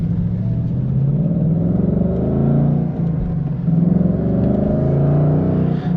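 A brand-new 2025 Ford Mustang Dark Horse V8 with a 6-speed manual pulls steadily from inside the cabin, its deep rumbling exhaust note rising and falling gently through gears without any talking.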